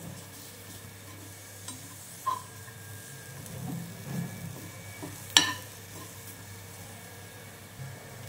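A small onion dry-roasts in a pan with curry leaves, a faint steady sizzle beneath occasional stirring scrapes. A sharp clink of utensil on metal stands out midway, and the whole scene stays close and fairly quiet.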